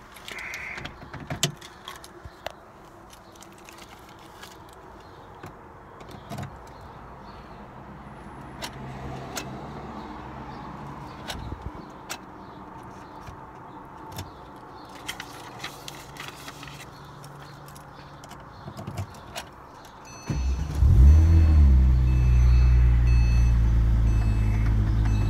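A 2007 Porsche 911 GT3 RS with a 6-speed manual sits quiet through some clicks and key jingles, then its engine cranks and fires near the end into a loud, close idle.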